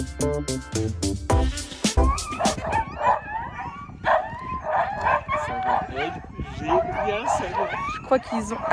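Sled dogs bark, yip and whine excitedly, a dense burst of loud barks at first giving way to higher whimpers and yelps, with people talking nearby.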